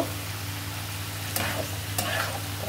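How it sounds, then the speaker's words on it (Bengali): Bitter gourd with small shrimp stirred in a pan under a steady low sizzle, two sharp spatula clacks standing out against the hot frying. "নাড়তে থাকবো, নাড়তে থাকবো।"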